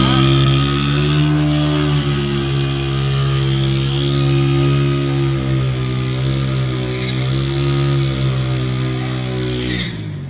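A motorcycle engine idles and hums steadily nearby, its low droning tone holding fairly even with slight rises in revs before trailing off at the end.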